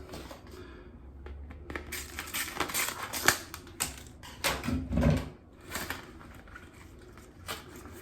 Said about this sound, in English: so I have to open it with scissors